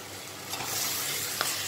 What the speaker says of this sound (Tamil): இப்போ நம்ம எடுத்து வச்சுருக்க காயெல்லாம் ஆட் பண்ணிடலாம்.